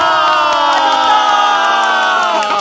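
A studio audience lets out a loud, sustained cheer of many voices shouting together at once, close and filling the whole stretch before easing slightly at the end.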